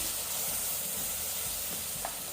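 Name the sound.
green masala paste frying with garlic in pan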